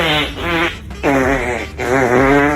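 Three drawn-out, buzzing, tonal farts in a row, loud and close, each wavering in pitch and separated by short gaps.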